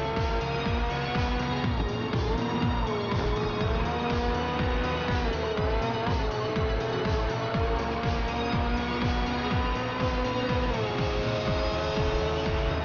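Race car engines roar continuously with rising and falling revs, while tires squeal intermittently; a steady, loud racing mix from Forza with a McLaren 720S against Porsches and a Corvette, no talking.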